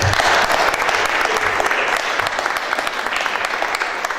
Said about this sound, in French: Je vous propose qu'on les applaudisse tous ensemble.